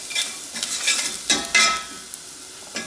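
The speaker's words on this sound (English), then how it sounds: "But just a quick stir" Herbs and pepper stirred quickly in sizzling butter over high heat, basil and oregano among them: a steady close fry hiss broken by several short scraping stirs, with no talking.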